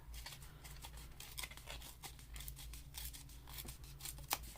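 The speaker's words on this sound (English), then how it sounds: "I'm going to rip off the bottom of this" Paper is ripped off the bottom of a junk journal card in a run of close, quiet crisp tearing and rustling bursts, with no talking.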